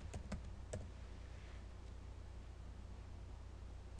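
Keys on a computer keyboard are typed in a few quick taps near the start, then only faint room hiss remains, quiet and close.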